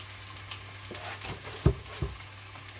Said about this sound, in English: In this pan, I'm going to do some onion and some garlic.